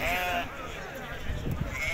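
Sheep bleat at a busy outdoor livestock market, a few close wavering calls among crowd noise and voices.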